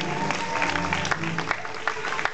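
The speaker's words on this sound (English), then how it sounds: "let's give them a round of applause!" Audience applause and crowd noise at a LEGOLAND Malaysia brick-laying ceremony for the LEGO NINJAGO ride, a dense, steady patter of many hands with scattered sharp claps and some voices mixed in.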